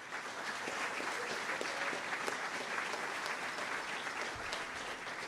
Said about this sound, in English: huge round of applause for all of them